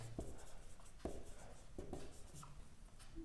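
Writing during a mathematics lecture on Euclidean rings, with soft intermittent scratches and taps of a pen or chalk on a board, close and faint over a low background hum.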